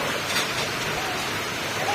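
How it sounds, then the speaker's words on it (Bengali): Heavy torrential rain pours outdoors beside a park, a dense, even hiss of downpour filling the air without break and loud throughout. "জোরদার বৃষ্টি হচ্ছে মুষলধারে।"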